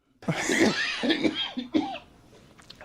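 A fit of harsh coughing, several rough coughs in quick succession, close and loud, trailing off into quiet.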